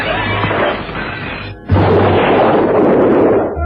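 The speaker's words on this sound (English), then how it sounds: "The explosion rocked the room." A bomb explodes in a radio drama, heard as a loud, sustained roaring blast that cuts out briefly and then returns with a second heavy wave of crashing rumble and debris.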